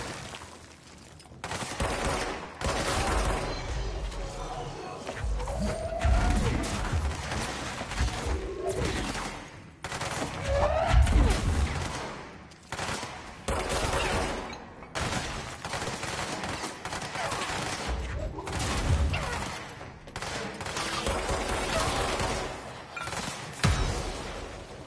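Sustained gunfire from the action video game Control on PS5, steady dense bursts of shots running through the whole stretch at fairly loud level, with brief lulls between volleys and no talk over it.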